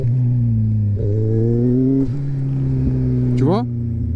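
A motorcycle engine idles steadily close by, its pitch stepping upward in brief blips as the clutch is eased and throttle applied, with a sharper rev near the end; a voice talks over it.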